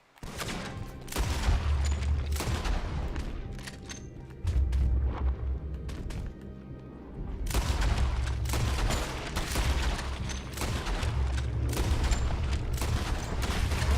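Gunfire in Red Dead Redemption 2: heavy, booming shots and rapid volleys rumble through the scene in dense waves, easing briefly around the middle before resuming at full strength.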